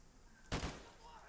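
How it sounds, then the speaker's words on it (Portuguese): Gunfire in Call of Duty: Modern Warfare Remastered on PS4: a single loud, sharp burst of shots lands mid-clip and decays over a low background of game ambience. "Depois é só dar uns tiros e matar ele."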